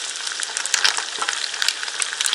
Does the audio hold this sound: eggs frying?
yes